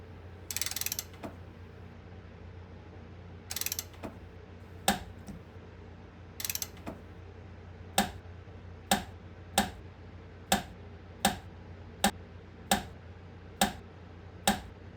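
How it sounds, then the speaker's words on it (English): Torque wrench tightening cylinder head bolts on a 1966 Mustang engine: a few rustling handling noises, then a regular series of sharp clicks about once a second, close and isolated, without talk. "we'll be torquing the head bolts down in 3 steps"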